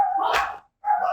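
A dog barks twice at close range, each a short, loud yap with a brief pause between, in a home where dogs and puppies are being played with.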